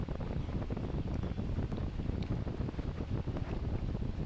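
Steady wind buffets a cruise boat moving through Tracy Arm fjord near Juneau, Alaska, in sleet and rain, a continuous rough roar with scattered small patters and no talk.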